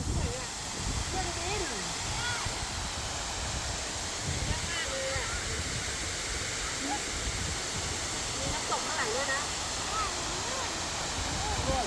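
A large waterfall in the garden of the Niagara N Garden cafe in Nakhon Pathom sends up a steady broadband roar. It runs continuously beneath people talking nearby.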